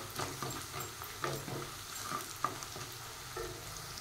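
A spoon stirs turmeric into sizzling masala frying in a pan for a Telugu brinjal and chana dal curry, with a steady close crackle and soft scraping strokes that repeat every second or so. No talking.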